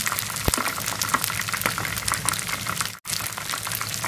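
Chicken cartilage deep-frying in hot oil sizzles and crackles steadily throughout, a dense frying hiss with scattered pops and a brief dropout near the end.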